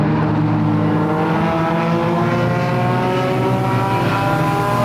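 Race cars lapping Flamboro Speedway during a Halloween Enduro 100 oval race, a loud continuous roar of many engines droning and revving together, steady and close throughout.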